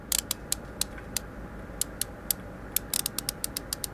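Unscrewing rusted bolts in the Car Mechanic Simulator 2021 video game produces a series of sharp, quick mechanical clicks and ratchet ticks, irregular and clustered in bursts, heard clearly over a low steady background hum.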